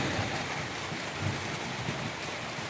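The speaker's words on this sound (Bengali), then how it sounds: "বৃষ্টি নামতেছে, দেখেন" Steady, broadband hiss of rain falling, an even wash of noise with no voices.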